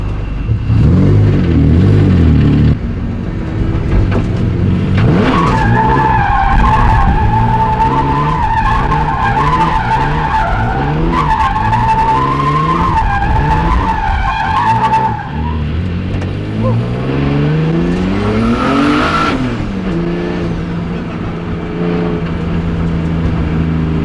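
A BMW E36 drifts with loud, sustained tire squeal over a roaring, revving engine that rises and falls through the slide, close and continuous for over twenty seconds.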